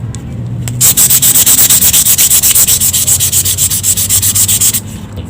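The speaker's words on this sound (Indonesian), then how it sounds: "Oke, kita coba pengamplasannya ya. Ini kita mulai dari ini dulu nih, bambu dulu ya." Bamboo is sanded with worn sandpaper in fast, even back-and-forth strokes, loud and close, a rhythmic scratchy rasp that keeps going for several seconds with no talking.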